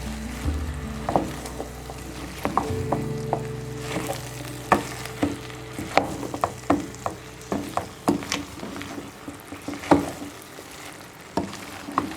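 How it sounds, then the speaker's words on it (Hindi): Okra with sliced tomatoes and chillies frying in a pan over high heat, a steady sizzle with scattered sharp pops and stirring clatters throughout, no voices. "इसको आप पहले थोड़ा तेज़ आंच पर भून के फिर इसको ढक दें।"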